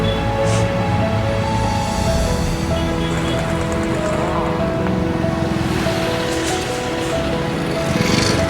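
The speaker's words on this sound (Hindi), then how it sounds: "बारिश हो रही है।" Steady rain falling outdoors during a long walking pilgrimage, a dense continuous hiss close around the listener, with no voices.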